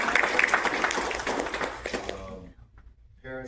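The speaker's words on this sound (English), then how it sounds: "Let's give them a round of applause." Applause from parents and family for the proctors of a martial arts belt test, a dense burst of clapping that tapers away within about two seconds, after which someone starts speaking.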